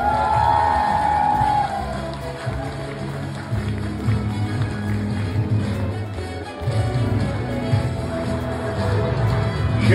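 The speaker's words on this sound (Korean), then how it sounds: "아름다운 신랑 신부를 위해서 여러분들 뜨겁게 뜨겁게 박수 부탁드리겠습니다" Wedding guests cheer and applaud for the bride and groom in a steady, dense wash of crowd noise lasting throughout, loud and close with no voices standing out.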